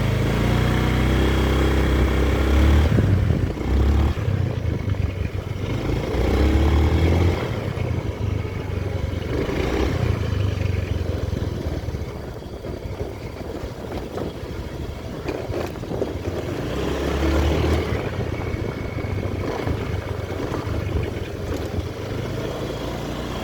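A Honda Beat ESP scooter runs and revs, its engine droning close by with a rough rattle as the throttle is released, the pitch rising and falling across repeated throttle cycles, no voices.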